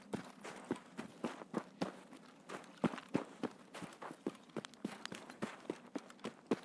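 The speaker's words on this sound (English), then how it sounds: "I heard my footsteps to my right." Rapid, regular footsteps in a video game, fairly faint, with a quick walking-to-running rhythm of about three steps per second and no talk over them.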